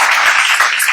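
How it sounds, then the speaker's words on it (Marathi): Audience applause at a talk about cycling, a short dense burst of clapping, loud and close, filling the whole moment without a break. "याच्यासाठी टाळ्या."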